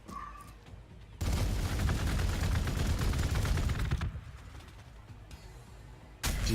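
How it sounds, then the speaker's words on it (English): Gunfire in the video game Warhammer 40,000: Gladius, a loud, dense burst of rapid shots lasting several seconds, fading to a quieter rumble before another burst starts at the end, with no talk. "Did you just shoot at me?"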